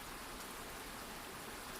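Steady rain falling on surfaces outdoors among trees, a dense, even hiss of countless drops with no pauses, soft and constant throughout.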